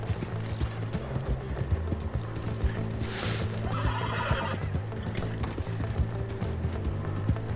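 A horse in Red Dead Redemption 2 galloping with rapid rhythmic hoofbeats and letting out a loud whinny partway through, with splashing and bustle around it.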